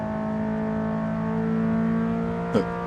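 A mid-engine sports car, either a Lotus Elise SC or a Toyota MR-S, accelerates out of the last turn of a race track as the driver gets back on the throttle. Its engine drones steadily and closely, with one brief sharp knock near the end.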